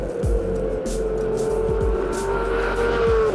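A Porsche 911 GT3 RS on the road gives off a loud, sustained engine drone with rising tones through a few quick gear shifts, plus tyre and road noise, with no talking.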